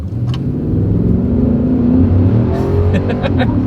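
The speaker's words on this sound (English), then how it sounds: "This thing revs high, it just chirped" A 2024 Nissan Titan SV V8 pickup accelerates hard from inside the cab, its engine note climbing steadily and loudly, with brief tire chirps or clicks near the end.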